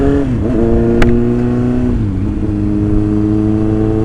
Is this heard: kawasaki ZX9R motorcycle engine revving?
yes